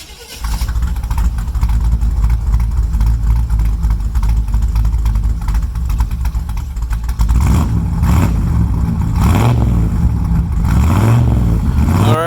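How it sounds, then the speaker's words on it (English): A 1967 Chevelle engine with a newly installed exhaust runs loudly and continuously with a deep exhaust rumble, then revs up and down several times near the end. "we will fire it up and see what it sounds like"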